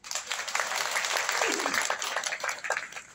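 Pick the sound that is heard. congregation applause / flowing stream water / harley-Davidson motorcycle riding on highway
congregation applause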